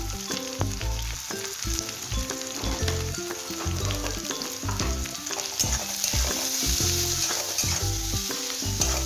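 Spices such as cumin powder, coriander powder and red chili powder fry in a pan for egg Maggi, giving a loud, continuous sizzle under a rhythmic clatter of stirring and scraping, with no voices.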